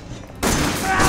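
A shotgun blast in Resident Evil 7 bursts in suddenly after a quiet moment, a loud broadband crack that rings out and sustains briefly.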